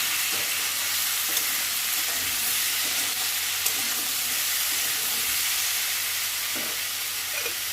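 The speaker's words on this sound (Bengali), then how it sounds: "যতক্ষণ একটু লালচে লালচে ভাব হচ্ছে ততক্ষণ এটাকে ভাজতে থাকবো।" Spices and turmeric powder frying and being stirred in a pan, a steady close sizzle and hiss running throughout with soft scraping stirs, no voices.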